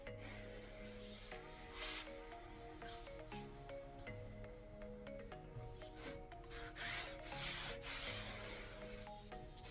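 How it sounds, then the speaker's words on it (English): Soft, continuous rubbing and brushing as icing sugar is worked over a fondant-covered cake dummy, with faint scattered taps and scrapes throughout and no voices. "So I'm just rubbing some icing sugar around my dummy"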